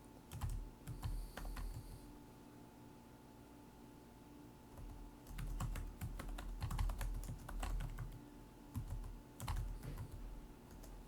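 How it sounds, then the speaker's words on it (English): Someone types on a computer keyboard while entering a worksheet title in Excel, producing bursts of quick, light key clicks with short pauses between them, close by and faint, with no talking. "go ahead and type in the title of the worksheet into cell A1"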